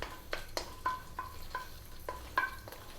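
Cardamom, red chili and black pepper hit hot coconut oil with a steady low sizzle, broken by about eight sharp, close metallic taps and clinks of a stirring utensil against the pan, with no talking.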